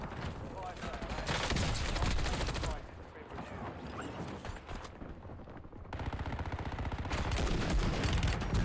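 Sustained automatic gunfire from a Warzone match on Rebirth Island, dense bursts of shots rattling nearly nonstop at high volume, with players' voices talking over the firefight.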